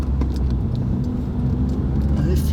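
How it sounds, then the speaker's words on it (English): A Toyota car accelerates hard along a Stockholm city street, its engine giving a steady low rumble beneath general traffic noise, with a voice speaking over it. "And he floors it, that Toyota"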